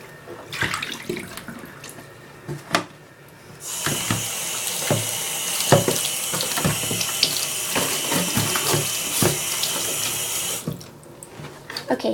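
Tap water running into a container as it is rinsed of hay and muck, a steady rushing stream lasting several seconds with handling knocks before and after, no talk.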